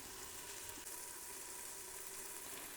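Tomatoes cooking down in oil in a pan for chicken mandi rice, a soft steady sizzle and faint bubbling that holds evenly throughout, quiet and close with no talking.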